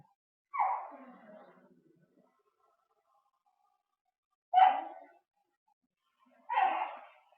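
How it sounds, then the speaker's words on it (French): A dog gives three separate short whining barks, each a brief yelping burst, with long quiet stretches between them in an otherwise silent room. "Elle parle, ce chien."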